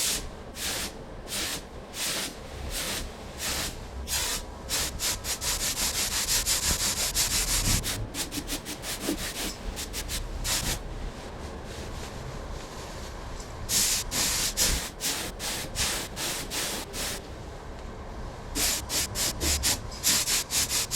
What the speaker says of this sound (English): I just got the paint all loaded up in the spray gun